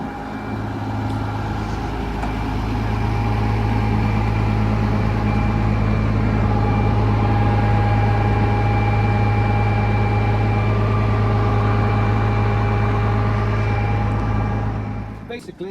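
A tractor engine driving a grass topper through its PTO shaft runs steadily with a low droning hum and machinery whine, building up and holding constant before cutting off at the end.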